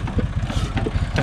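A tractor engine, just primed and cranked, idles steadily with a low, even chugging rumble that stays close and constant throughout.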